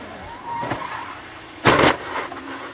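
An IndyCar race car loses control over a bump before the braking zone and hits the wall, a sharp loud impact burst after a stretch of engine and crowd noise from a distance.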